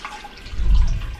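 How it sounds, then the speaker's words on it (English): Four cups of plain water poured into a container for an RV toilet paper test, a short low splashing gush that swells in the middle and tapers off, heard alone. "We're going to take 4 cups of plain water"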